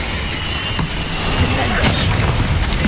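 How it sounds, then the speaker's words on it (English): Bombarda explosion spell in Hogwarts Legacy on PS5, a loud, sustained blast with a squealing, whooshing edge over heavy rumbling combat noise. "Bombarda!"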